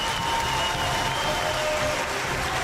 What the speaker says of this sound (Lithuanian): Garsiais aplodismentais pasitinkame Rima!